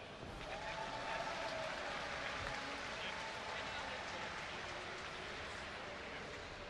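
Steady crowd applause and cheering fill the space for Protoss-versus-Terran player Bomber at an IEM Gamescom StarCraft tournament, a dense, continuous roar that holds throughout at even loudness.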